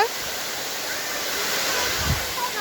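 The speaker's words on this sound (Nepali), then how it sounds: "यहाँदेखि पानी बगिरह।" Water rushing down a village waterfall, a steady broadband roar filling the scene from start to finish, with a brief low thump near the end.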